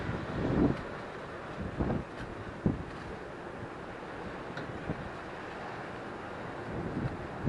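Steady wind buffets the microphone on the River Humber shore during sea fishing, a continuous broadband rush with a few stronger gusts and thumps near the start.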